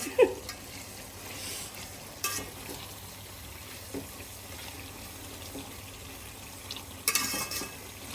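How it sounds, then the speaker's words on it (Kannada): Onions frying in ghee, about a kilogram of them in a generous pool of the fat for a traditional fenugreek dish, give a steady close sizzle throughout, with a few louder stirring scrapes near the start, middle and end. "ಇಲ್ಲಿ ನೋಡಿ ನಮ್ಮ ಆನಿಯನ್ಸ್ ತುಪ್ಪದಲ್ಲಿ ಫುಲ್ ಸ್ವಿಮ್ ಮಾಡ್ತಿದೆ"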